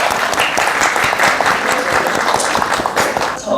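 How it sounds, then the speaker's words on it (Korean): Audience applause at a Korean classical music culture forum in Gwanghwamun, a dense, steady wash of many hands clapping throughout, loud and close, trailing off briefly at the very end. "박수 부탁드립니다"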